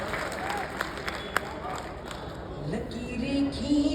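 Audience at a Hindi poetry recital applauding from front to back, a soft, diffuse patter of many hands heard at a distance, with a voice emerging toward the end.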